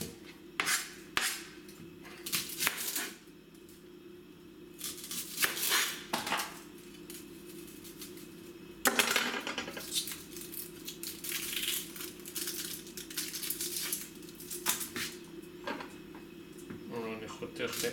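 A knife slices two onions on a cutting board in a home kitchen, with irregular chopping taps and clatters of utensils and dishes, while someone talks throughout.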